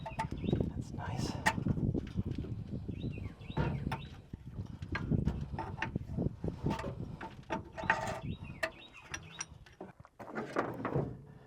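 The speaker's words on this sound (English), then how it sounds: "Birds are chirping." Birds chirp and cluck outdoors around a tow truck repair job, fairly faint behind mechanical clanks, hose handling noises and people talking.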